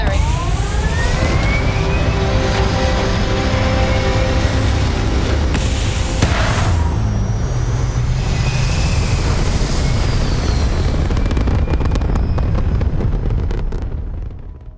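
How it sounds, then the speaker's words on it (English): Spaceship thrusters fire in Starfield with a loud, steady roar that fills the whole stretch, with rising and sliding whines on top and a brief swell in the middle, before cutting out at the end. "All thrusters firing"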